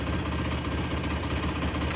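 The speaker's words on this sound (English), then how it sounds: "Definitely idling better, running better." A 2007 Yamaha YFZ 450 ATV engine idles close by, a constant low mechanical rumble with even vibration and no change in pace.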